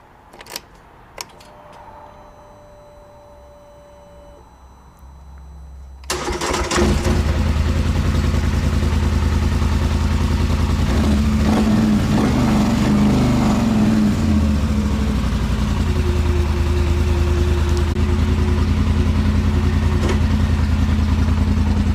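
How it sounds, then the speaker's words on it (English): A 2018 Polaris Sportsman XP 1000 ATV cold-starts after a few quiet clicks, its engine catching abruptly and settling into a loud, steady idle close by with some revving. "Let's start off with a cold start."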